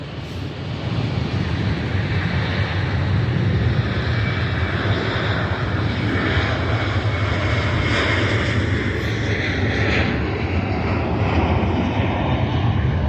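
A TUI Belgium Boeing 787-8 Dreamliner taxiing after landing, a loud, steady broadband jet engine roar with a soft whine on top, sustained close by for the whole stretch without talk.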